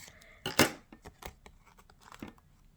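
Paper-craft scissors snip leftover dimensional adhesive pieces from the edge of a sheet, a few close, crisp cuts with one louder snip early on, followed by faint rustling and small clicks.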